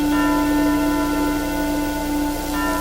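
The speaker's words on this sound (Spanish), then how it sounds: "es posible escuchar el lejano sonido de la campana del pueblo, llamando a misa desde el fondo de las aguas." A distant village church bell rings out steadily, its sustained ringing tones hanging over a constant low background hum, with no voices present.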